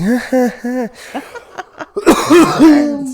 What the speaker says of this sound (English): It's cough and sniff